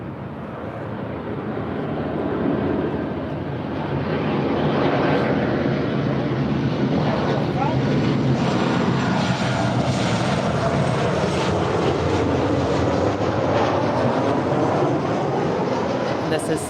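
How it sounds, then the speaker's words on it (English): A Southwest Boeing 737-800 jet arriving at LAX from St. Louis, a loud, steady broadband engine roar that swells after the opening seconds and holds strong throughout, with no talking. "This is Southwest Flight 224 coming in from St. Louis to 737-800."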